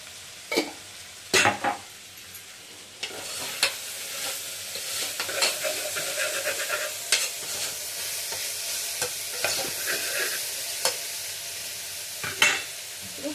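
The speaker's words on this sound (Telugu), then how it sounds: "ఆయిల్లో మంచిగా ఫ్రై అవ్వాలి" Gongura curry base frying in hot oil in a home kitchen, with a steady sizzle and repeated scraping knocks of a spoon stirring against the pan, close and with no voices.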